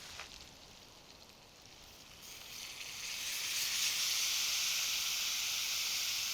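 Beef broth poured into a hot pan with butter and beef fat sets off a loud, steady hiss and sizzle that swells halfway through and holds strong, close up with no talking.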